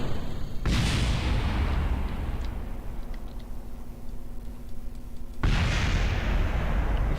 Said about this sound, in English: Explosions, sure, it's fun to look at.